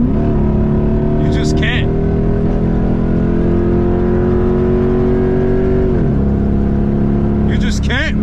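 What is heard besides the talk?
Jeep SRT8 engine revving while driving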